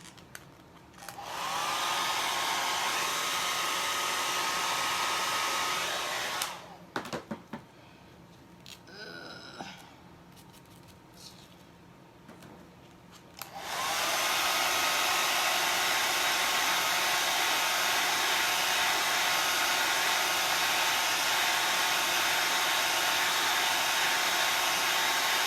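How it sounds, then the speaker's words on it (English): A handheld dryer blows steadily on chalk paste on a craft, a loud continuous whoosh that stops for a few seconds with faint handling noises, then starts again and runs to the end. "peel this up and hit it with the dryer again"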